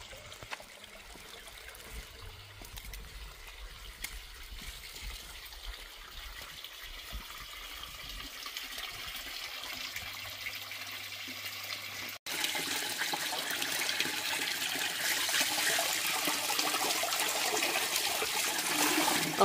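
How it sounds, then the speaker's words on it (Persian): Cool, clean water flowing steadily from the Shah Abbasi qanat spring near the Abbasabad caravanserai, a continuous trickling rush that grows louder and brighter partway through. "چشمه قنات شاه عباسی دقیقا همین است."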